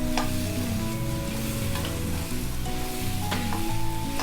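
Raw, uncooked potato pieces sautéing in a pan for a potato curry, giving a dense, continuous sizzle with occasional stirring clinks, loud and close, and no one speaking.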